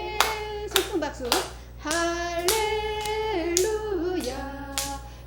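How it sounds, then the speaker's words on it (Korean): Hands clapping back to back in a church congregation, a series of sharp claps in rhythm alongside voices singing and chanting together. "손등 박수."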